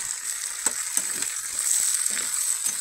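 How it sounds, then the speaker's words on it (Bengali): A potato and flat bean fry gets stirred in a pan after salt goes in, a gentle, close sizzle carrying quick, uneven spatula strokes in a short burst. "লবণটা দিয়ে আমি আবার ভালো করে নেড়ে চেড়ে মিশিয়ে নিচ্ছি"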